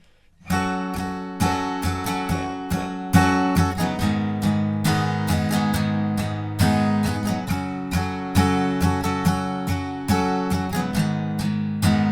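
Guitar chords strummed in a steady rhythm, moving through a short progression with bright, ringing strokes, played alone and close.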